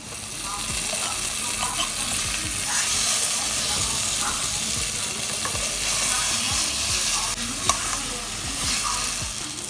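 Breaded chicken frying in hot oil for a crispy chicken lemon spaghetti, a steady loud crackling sizzle with scattered pops and clicks, and a voice talking over it at times.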